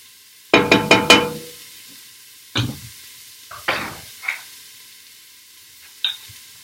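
Vegetables stirred in a pan for chicken noodle soup: a quick burst of scraping stirs and sizzle, then a few separate stirring scrapes with brief hissing, close and fairly clear with quiet gaps between.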